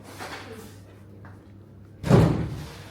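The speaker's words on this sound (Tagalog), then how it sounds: "pasara ng pinto" A door swings shut with a single solid thud after a quiet stretch of room noise and faint movement, the slam fairly close and loud, its low boom fading over the final second.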